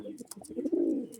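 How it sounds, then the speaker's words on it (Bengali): A pair of pulsar breed pigeons coo nearby: soft throaty burbling notes swell into one longer, rolling coo, with a few light clicks and flutters and no talk. "একদম পিওর পালসার ব্রিডের পায়রা"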